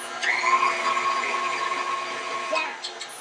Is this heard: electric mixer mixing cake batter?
yes